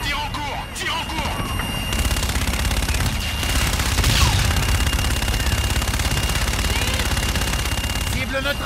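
Dense, rapid gunfire from the video game Call of Duty: Infinite Warfare, with heavy overlapping bursts and booming impacts that continue loud throughout, while radio-style voices talk over the battle.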